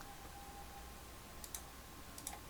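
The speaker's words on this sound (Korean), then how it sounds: "클릭" Computer mouse clicks sound faintly against a quiet room hum, with two brief, crisp clicks about three-quarters of a second apart.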